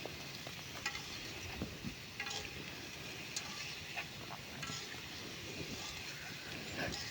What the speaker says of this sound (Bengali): খানিকক্ষণ ধরে নাড়াচাড়া করে মিক্স করে দিতে হবে।